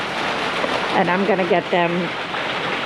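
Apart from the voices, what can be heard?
rain falling outdoors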